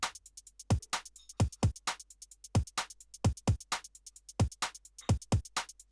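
Programmed drum hits in Ableton Live played without the drum break: sparse, sharp kicks and snares over a quick, even tick of hats, dry and close in a steady loop.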